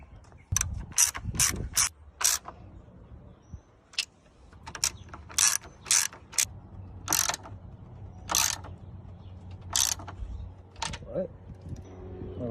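A ratchet tightens radiator bolts on a Mercedes-Benz E320 W210, giving repeated bursts of sharp clicking strokes, close and clear, separated by short pauses, over low background noise.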